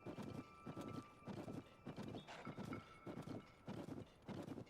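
Horse hooves clip-clopping in Zelda: Tears of the Kingdom, a brisk, regular run of close, crisp hoof strikes repeating steadily throughout with no voices.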